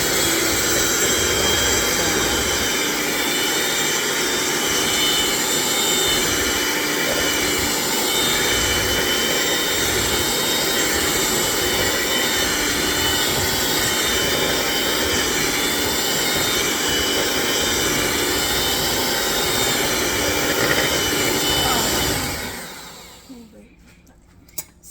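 A stand mixer creaming butter and sugar whirs steadily and loudly for about twenty seconds, a continuous motor drone with some voices underneath, then cuts off abruptly.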